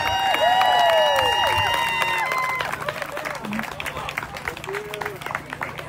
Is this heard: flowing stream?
no